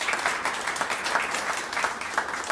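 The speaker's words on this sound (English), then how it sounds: "Let's give him a round of applause." Steady, fairly loud crowd applause fills the room at a civic gathering announcing plans for a riverfront festival, with dense clapping continuing throughout and no speech over it.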